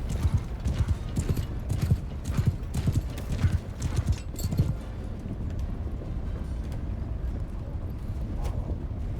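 Horse hooves in the Mount & Blade II Bannerlord video game, a rapid close clip-clop of galloping strides over a steady background din, loud at first and then settling.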